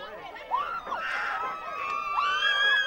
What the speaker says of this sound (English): Coach, as you see here, Castle sideline still cheering.